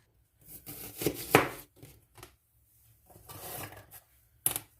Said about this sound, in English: I'm now chopping my second onion up to get that right in the pot as well